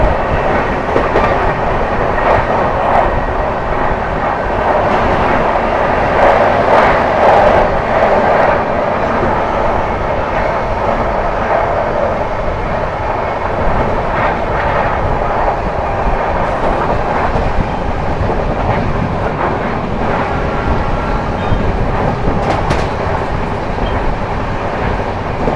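The 12723 Telangana Express runs at speed, heard from on board as a loud, constant rumble with rhythmic wheel clatter over rail joints and no talking.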